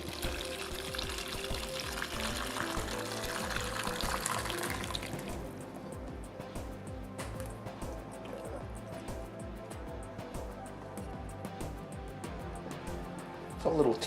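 Sauce is poured into a casserole dish of braised lamb shanks, a close, steady liquid splashing for the first few seconds followed by quieter drips and scraping.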